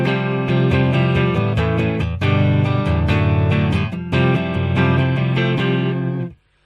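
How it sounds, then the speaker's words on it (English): Clean electric guitar through a Boss Katana amplifier: a continuous run of bright picked notes and chords, close and steady, with brief dips in level and a ring-out at the end, no talking. "So this is what the clean amp sounds like."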